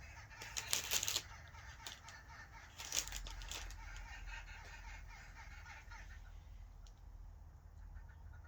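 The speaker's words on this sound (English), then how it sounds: "something upset the birds on the bird channel." Birds squawking on a television bird channel playing in a room, with a loud burst of harsh calls near the start, another around three seconds, then fainter scattered chirps over steady background hiss.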